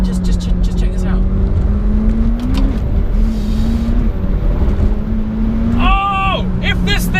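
A McLaren 720S sports car accelerating, its engine droning steadily under the cabin with rising and falling tones, then a sharp upshift sweep near the end.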